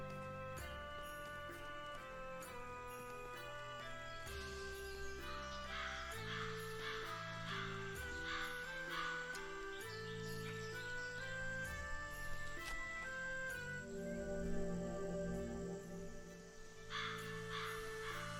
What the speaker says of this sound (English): the crows are going mental